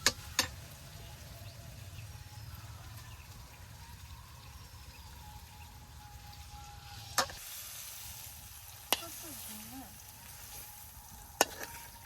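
Food sizzles quietly in a pan with a steady low crackle, broken by a few sharp clinks of a utensil against the pan.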